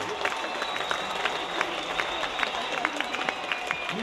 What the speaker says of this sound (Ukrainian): давайте зааплодуємо самі собі, що ми це зробили